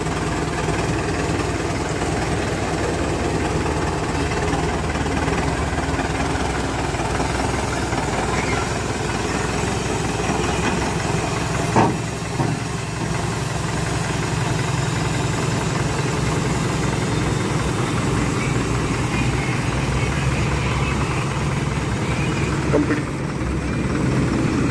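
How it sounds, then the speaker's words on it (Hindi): Tractor engine idling at a Punjab tractor pulling competition, with Haryana 6055 Hooda and 5310 tractors on the track: a steady low mechanical rumble running continuously and fairly loud throughout, with a brief thump near the middle. "ये भाई दूसरा ट्रैक्टर उड़ा वाला, ये भी ट्रैक में पहुंच गया है।"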